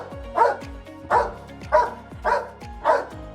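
A police K9 dog barks five times in a steady rhythm, loud and close, each bark a deep woof with a quick follow-up yip.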